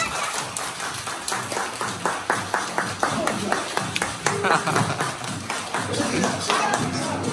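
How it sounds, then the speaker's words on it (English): A group on a mission trip in Jamaica claps hands in a steady rhythmic beat, sharp regular claps over a lively background of voices and laughter, with some people talking throughout. "Everybody clap your hands."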